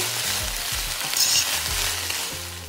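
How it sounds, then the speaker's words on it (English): Vegetables coated in jerk sauce fry loudly in a pan, a steady close sizzle broken by the scrape and clatter of stirring, with no one talking. "So I'm gonna go ahead and add the jerk sauce. And go ahead and stir."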